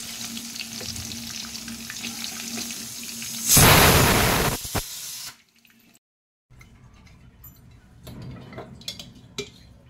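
Fish fry in oil for a fish biryani, a low steady sizzle broken by a loud burst of hissing spatter lasting about two seconds, then a brief silence before quieter frying and clattering resume.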